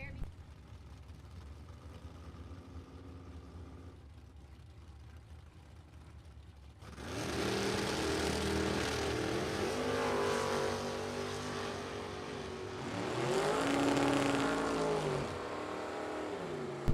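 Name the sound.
drag race of Chevrolet Nova and 1972 Chevrolet Corvette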